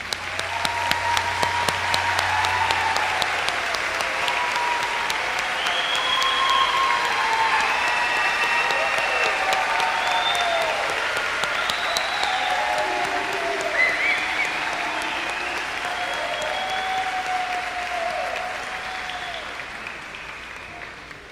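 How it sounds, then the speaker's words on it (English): Commencement audience applauds honors graduates at a college graduation ceremony, a steady, dense round of clapping from a large crowd lasting about twenty seconds and fading slightly at the end. "stand and be recognized with a well-deserved round of applause"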